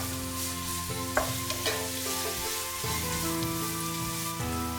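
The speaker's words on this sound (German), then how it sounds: "Ein Schuss Öl in die heiße Pfanne. Die Möhren vorab kurz braten." Carrots fry in a splash of oil in a hot pan for a Chinese-style Spätzle and pointed cabbage stir-fry, a steady loud sizzle broken by a couple of sharp stirring scrapes, with no talking.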